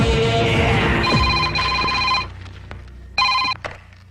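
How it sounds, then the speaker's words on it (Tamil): A telephone rings in a tense Telugu-Tamil action drama scene, bright electronic trills in two bursts over a low background rumble, loud and close, with a short pause between rings. "சேட்டு போன் பண்றான்."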